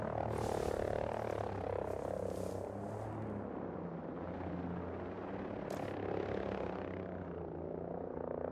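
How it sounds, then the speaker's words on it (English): In the video game Ghost Recon Breakpoint, an enemy helicopter hovers nearby, a steady low rotor drone with pulsing thumps and a few sharp hissing bursts over the top, continuous throughout, with no voices. "Enemy chopper in the AO."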